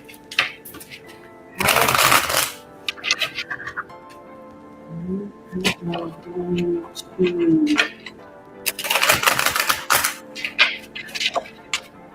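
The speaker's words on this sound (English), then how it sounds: "shuffle for the Scorpios" Tarot cards are shuffled in two loud bursts of riffling, one early and one late, with someone speaking between them.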